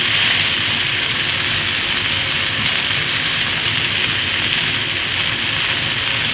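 Short ribs sear in a hot pan, giving a steady, loud, hissing sizzle that holds evenly throughout with no talking.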